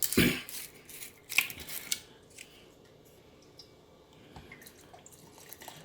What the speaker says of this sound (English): I'm going to go ahead and add my coconut rum.